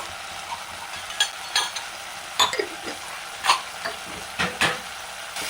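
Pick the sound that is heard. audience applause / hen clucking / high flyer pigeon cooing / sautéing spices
sautéing spices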